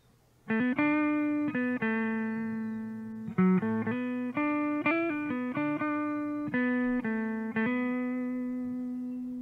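Clean electric guitar notes and short chords, bright and undistorted, played in a steady phrase with brief pauses, close and alone.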